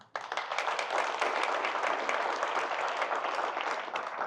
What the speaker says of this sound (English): will you please stand and give her a hand?